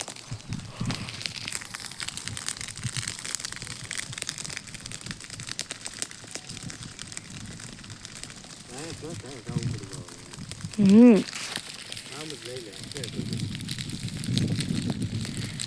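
A fire burns outdoors on a farm plot, giving steady crackling and popping throughout with a brief louder flare-up, while people talk nearby.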